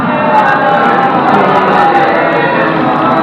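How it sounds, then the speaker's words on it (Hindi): Crowd at a Muharram majlis loudly reciting salawat in unison, a dense, continuous and very loud mass of voices filling the space without a break. "मुअत्तर करो जुबान मुंह बुलंद आवाज में सलवात पढ़ो"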